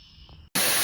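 A JOMST shower head sprays water with a sudden switch to loud, hissing, broadband spray after a quieter lower hum and a brief gap, steady and close.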